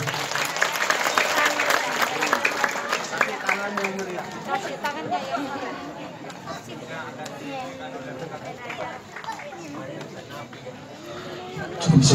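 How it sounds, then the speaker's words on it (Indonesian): An audience claps at a Maulid Nabi celebration in an Islamic boarding school in Bali, with chatter mixed in. The dense, loud clapping fades gradually to scattered claps as the crowd murmurs and voices talk over it. "Kasih tepuk tangan yang meriah."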